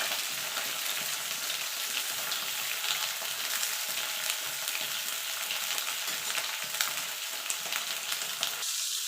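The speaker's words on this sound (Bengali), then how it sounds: "লাল লাল করে পটলগুলো ভেজে নেবো" Slices of pointed gourd fry in oil over a high flame, producing a dense, even crackling sizzle that holds steady and close the whole time.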